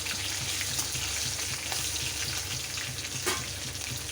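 Flattened rice (poha) and slit green chillies fry together in a pan, giving a continuous close hiss and crackle at steady loudness throughout, with no voices.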